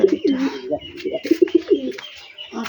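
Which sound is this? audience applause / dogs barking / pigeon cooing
pigeon cooing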